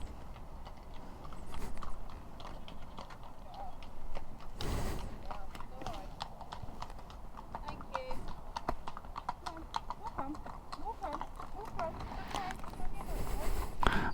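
Hooves clip-clop in an uneven rhythm as horses pass close by at a walk, with quiet voices now and then.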